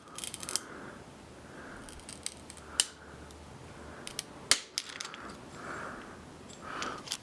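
A pipe cutter working around a bike handlebar gives a few sharp cracks and ticks, close and fairly quiet, spaced irregularly over a soft background hiss with no talking.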